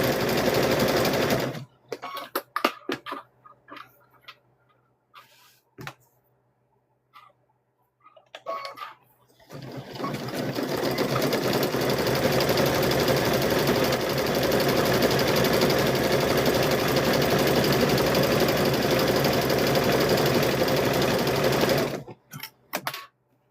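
A sewing machine stitches a fabric-wrapped rope bowl, first in short stop-start bursts, then in one long, loud, fast continuous run lasting over ten seconds before cutting off.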